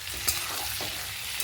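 Potatoes and capsicum fry with chili powder in a pan, a steady close sizzle broken by a few soft scrapes of stirring, with no voices.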